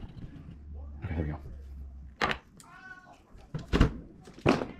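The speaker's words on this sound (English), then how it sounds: "my cat's hungry" A hungry, well-fed pet cat meows a few times, short cries mixed with nearby handling noises while someone talks.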